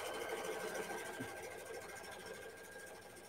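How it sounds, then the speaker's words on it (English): Sewing machine stitching patchwork, a steady, dense mechanical whir with a constant motor hum running close and evenly throughout, with no talking. "So I'm going to go ahead and let it stitch out a bit."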